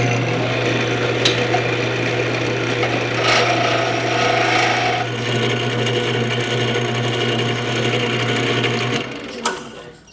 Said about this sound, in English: So I'll turn these until they're comfortable in my hand